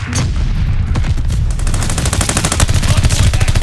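Rapid gunfire from a Call of Duty Vanguard Hardpoint match: loud, dense bursts of automatic shots crackling in quick rhythmic runs, growing heavier and more sustained toward the end, with no talk.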